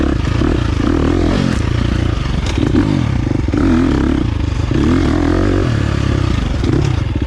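A 2023 KTM 350 XC-F dirt bike rides in second gear, its engine note loud and close, steady with small rises and falls, over clattering and wind noise.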